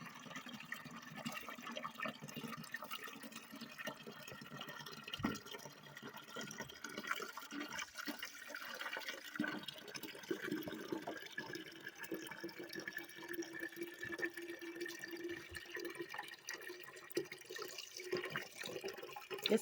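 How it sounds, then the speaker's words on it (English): Water runs steadily into a potato-growing container, a continuous soft splashing fill that carries on throughout at a fairly quiet level. "I'm gonna fill it with water the rest of the way."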